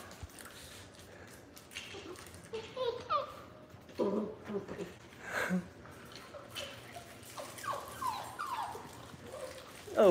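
Playful puppies at a play date give soft whimpers, yips and little barks in scattered bursts, fairly close, with people talking over them.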